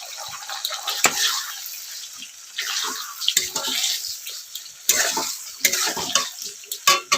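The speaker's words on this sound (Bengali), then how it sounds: "ভেজে রাখা পটল দিয়ে দিলাম" Fried pointed gourd hits a pan of spices and is tossed through them. Clattering bursts of spoon-on-metal scraping and wet crackling come in irregular waves, fairly close.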